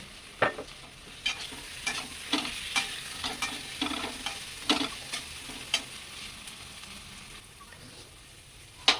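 Spice paste of onion and garlic fries with chopped tomatoes for a mutton dish. A quiet sizzle sits under regular scraping strokes of a spatula against the pan, with no one speaking.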